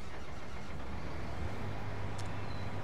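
Farming vehicle driven in Farming Simulator 19, a steady mid-pitched engine drone running without a break, fairly quiet and alone.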